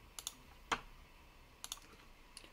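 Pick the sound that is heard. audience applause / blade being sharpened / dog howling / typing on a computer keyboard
typing on a computer keyboard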